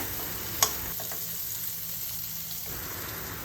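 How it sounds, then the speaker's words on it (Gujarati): Soft, steady sizzling of pointed gourd (parval) cooking in a pan over a low gas flame, with a brief clink of a utensil near the start. "આ રીતે ધીમા ગેસની ફ્લેમ પર જ તેને સંતળાવા દેવાનું છે"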